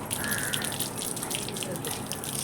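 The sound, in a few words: water running from tap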